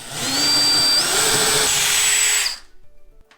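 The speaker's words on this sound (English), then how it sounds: "I'm gonna use this 7 32" drill bit to drill into the wall." A power drill fitted with a 7/32-inch bit bores into a wall while a TV wall mount is being installed, giving a loud, steady motor whine for about two and a half seconds before it cuts off.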